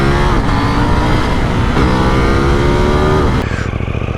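Motorcycle on Mitas Sport Force tyres riding a wet road, the engine loud and close with steady revving and rising pitch through gear changes, plus tyre and wind roar, then easing off near the end.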